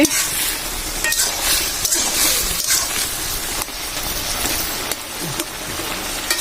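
Mixed vegetable curry cooking hard in a pot beside paratha preparation, a loud, dense bubbling hiss with scattered pops and splutters close by, no speech.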